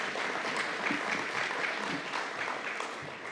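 Sustained applause from a crowd, a dense, even patter of clapping that holds steady throughout and fades slightly at the end.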